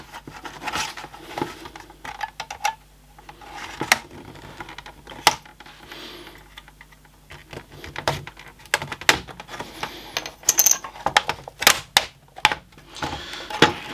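A spudger works around a laptop case to lift it apart, giving sharp plastic clicks, snaps and light scraping in irregular bursts, close and fairly loud, with no talking.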